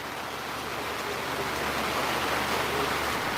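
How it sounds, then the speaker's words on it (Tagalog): Heavy rain pours down in a steady, dense hiss that fills the whole stretch without a break and swells slightly toward the end, with no voices over it. "Ang lakas ng ulan, sana walang magtumulo dito."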